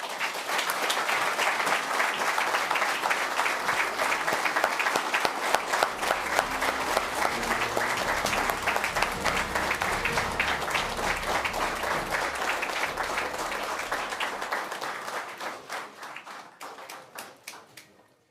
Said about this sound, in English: A round of applause again for the Governor.